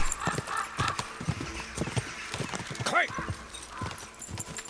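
Horse hooves clip-clop at a steady walking rhythm in Kingdom Come: Deliverance 2, close and clear, with a brief whinny partway through and someone talking over the hoofbeats.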